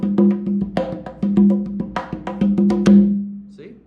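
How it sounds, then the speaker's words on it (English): A single conga drum, a little bigger than bongos, is played by hand in a lively pattern of deep, resonant tones and sharper slaps, close up and heard alone. "And the conga is right here,"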